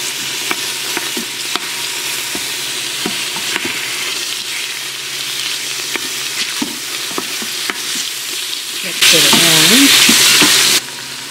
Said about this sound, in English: I'll place the stew meat in.